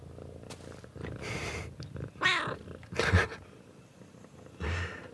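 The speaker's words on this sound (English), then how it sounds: "sorry, that's my cat meowing there." A domestic cat meows and mewls several times at close range, its calls rising over a soft purring, rustling background with no talk.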